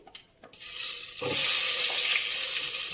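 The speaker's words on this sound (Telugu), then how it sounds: "ఉల్లిపాయలు వేసుకుందామండి." Ordinary onions drop into hot oil with fenugreek powder for sambar. After a few soft handling noises, a sudden sizzle erupts and swells into a loud, steady hiss.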